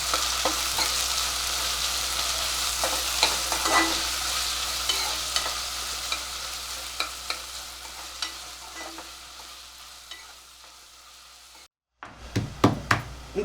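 Two finely chopped onions sauté in a pan, a continuous close sizzle with frequent scraping stirs and light knocks of the spoon. The sound breaks off briefly near the end, then a few louder scrapes return.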